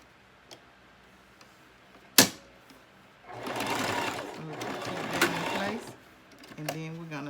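A sewing machine stitches lace onto a garment in short bursts of rapid mechanical chatter, with a sharp click before the runs and a voice briefly at the end.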